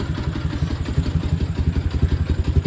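A Dnepr motorcycle engine idles low and rough on a cold start in freezing weather, with a steady uneven chugging pulse close by and loud throughout.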